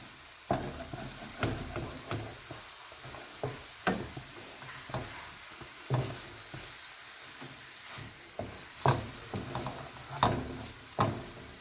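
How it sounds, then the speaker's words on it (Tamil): Ash gourd halwa is stirred in a pan with steady scraping strokes about once a second, over a soft continuous sizzle. No one speaks. "இப்போ இதை நாம் கொஞ்ச நேரம் இந்த மாதிரி மிக்ஸ் பண்ணி கொடுத்துக்கிட்டே இருக்கணும்."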